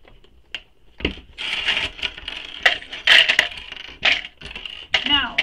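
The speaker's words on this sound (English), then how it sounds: "I'm just adding some more clips because, you know, more clips the better." Plastic sewing clips snapped onto fabric for a tote bag: a series of sharp, close clicks and clattery snaps, irregularly spaced, with fabric rustling between them and no speech.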